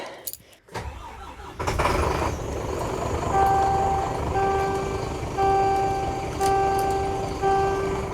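A cold, frozen Kobelco machine starts with a brief rattle and then settles into a steady idling drone as it warms up, joined by a repeating beeping warning tone.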